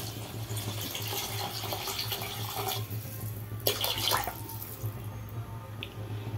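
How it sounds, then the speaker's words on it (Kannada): Water poured into a pot of chicken biryani for cooking the rice, a soft continuous splashing and trickling stream, fairly faint and steady with a few brighter splashes. "ರೈಸ್ಗೆ ಬೇಕಾಗಿರೋ ನೀರು,"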